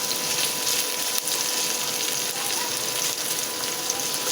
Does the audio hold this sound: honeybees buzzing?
no